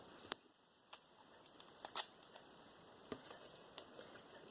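Scissors snipping strips of washi tape from a sheet, a few sharp isolated clicks spaced irregularly, close but quiet over a low hiss.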